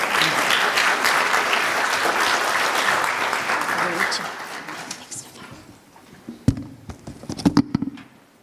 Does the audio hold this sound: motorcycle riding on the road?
no